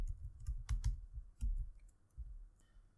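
Code is typed on a computer keyboard in quick bursts of close, soft key clicks with short pauses between them. No one speaks.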